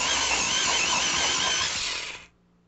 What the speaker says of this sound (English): So let me sharpen.